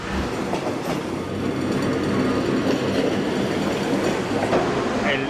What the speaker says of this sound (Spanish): estamos en la estación de trenes de Ramos Mejía